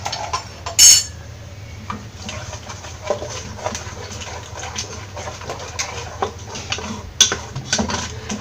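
A spatula stirs and scrambles egg with turmeric and chili powder in a pan for Kerala-style egg fried rice, making repeated close metallic scrapes and clinks in an irregular rhythm, with no talking.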